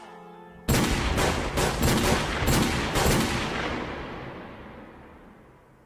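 Firing squad volley in a comedy skit: a sudden loud burst of several overlapping gunshots cracking in quick succession, then a long echoing decay fading over a few seconds.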